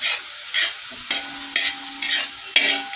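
Clam meat frying in a pan with salt and curry leaves, a steady sizzle broken by about six regular scraping stirs of a utensil, close and fairly loud with no voices.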